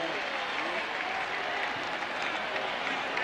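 Stadium crowd at a 1999 college football game between Stanford and Arizona, a steady broadband roar of cheering and applause that stays dense and even throughout, with voices mixed in.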